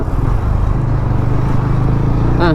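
TVS Ronin cruiser motorcycle riding in third gear at about 30, its engine a steady, loud, low throbbing drone with wind noise over it, close up and constant throughout.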